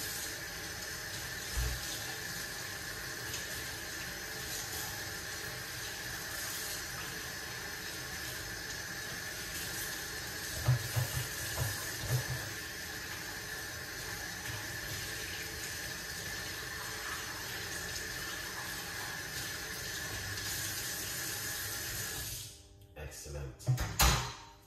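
Tap water runs steadily into a sink while a cup is washed, a continuous close splashing hiss with a few faint knocks, then the flow cuts off near the end.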